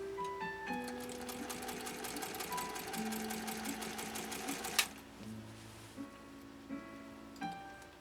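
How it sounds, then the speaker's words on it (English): A 1930 Singer 101-4 sewing machine runs steadily at close range, stitching down a line with a continuous rhythmic whir, then stops, leaving a few faint clicks and handling knocks. "we're going to sew down now, finish off this line"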